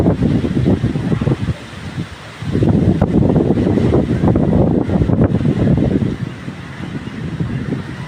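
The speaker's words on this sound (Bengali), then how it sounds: "সেই রকম বাতাস হচ্ছে।" Strong morning storm wind gusting steadily and loudly over the microphone throughout, buffeting harder after the first couple of seconds, with no talk.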